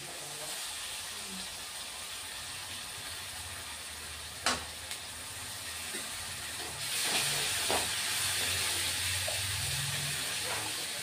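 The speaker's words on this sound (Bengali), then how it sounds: "আমি পেঁয়াজ বাটা দিয়ে দিচ্ছি, পেঁয়াজ বাটা," Onion paste sizzling in hot oil for a pabda fish curry, a steady bright hiss throughout with a couple of sharp pops and a louder surge of frying toward the end.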